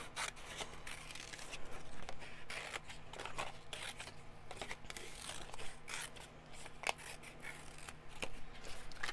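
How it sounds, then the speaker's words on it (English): Scissors snip around a black box on a water slide decal sheet, a close series of crisp, irregular cuts and paper rustles at low level, with no talking. "I'm just cutting around that black box."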